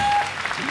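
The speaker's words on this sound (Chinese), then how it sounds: "掌声鼓励他喽！" Audience applause at a lively variety-show taping, a dense wash of clapping filling the short moment at fairly steady loudness.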